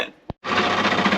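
A washing machine running inside a camper van, with a short click, then a brief silence before a steady, noisy mechanical churning racket starts and continues close by.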